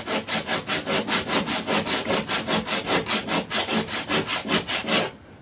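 Sandpaper rubs back and forth over a handmade wooden Native American flute in a quick, even rhythm of about two strokes per second, each a close, loud, raspy scrape, stopping abruptly near the end.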